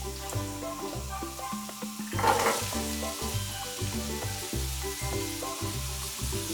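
Onions, carrots and peppers sizzle steadily in hot oil for a vegetarian potato tajine, with a continuous close crackle and a brief louder surge as they are stirred, while music plays underneath.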